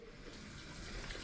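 Water runs steadily from a tap in a hotel bathroom, a soft continuous hiss and splash heard faintly and alone.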